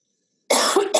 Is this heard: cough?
yes